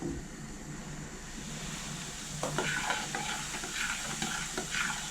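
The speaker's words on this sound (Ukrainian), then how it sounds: "Роблю ложкою ось такий вихер." Salted water bubbles steadily at a boil in a large pot while a spoon swirls a whirlpool through it before adding dumplings, splashy stirring building midway, close and moderately loud with no talk.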